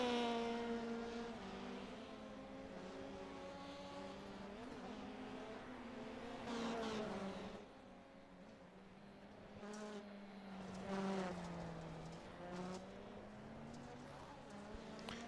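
A rallycross car idles at Knockhill during a race, its steady harmonic engine drone running low in the background with a few brief rises in revs, alongside other faint mechanical noise.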